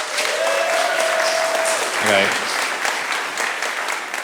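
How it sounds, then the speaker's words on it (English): An audience claps and cheers in a sustained burst of applause, and a voice speaks briefly over it. "give us a round of applause, audience, if you have a Monzo account"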